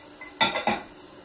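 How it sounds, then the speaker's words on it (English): Canned chopped tomatoes stirred in a pot for a vegetarian chickpea ragu, two or three quick close clinks and scrapes of a utensil against the pot, with no talking. "And now we can give them a nice stir."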